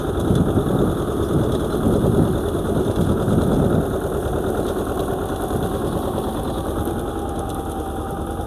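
A T-25 tractor engine runs steadily and loudly throughout while ploughing rough virgin ground with a Bellota/Kverneland plough, a continuous close mechanical drone with no talk.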